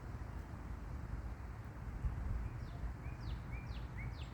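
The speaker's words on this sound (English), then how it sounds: "Hearing the different bird songs, which I think that's a cardinal." A cardinal sings in a forest, a few faint, rising-then-falling whistled notes repeating in the distance over a steady low rumble of background noise.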